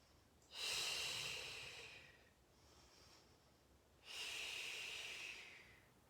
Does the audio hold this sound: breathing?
yes